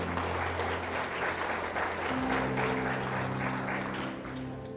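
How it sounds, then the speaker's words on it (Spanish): A church congregation applauding, dense continuous clapping from many hands with faint music humming underneath, easing slightly at the end. "aplauda al Señor."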